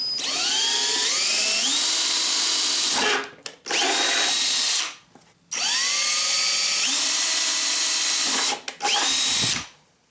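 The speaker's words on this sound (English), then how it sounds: "With your drill, use a small bit to drill a pilot hole at each intersecting line on the cable ties." A power drill with a small 5/64 bit whines up to speed in three long bursts drilling pilot holes through cable ties, separated by brief pauses, loud and close, pitch rising as the motor spins up.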